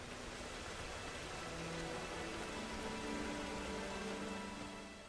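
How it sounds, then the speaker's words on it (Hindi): Steady rain falls on the savanna as a dense, even hiss, constant and fairly loud throughout with no voices. "बरसात का मौसम आ गया है।"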